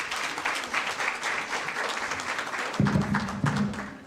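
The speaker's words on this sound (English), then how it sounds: "Please give a round of applause." Audience at an academic accounting symposium applauds steadily, a dense wash of clapping, with a voice starting to speak over the tail end.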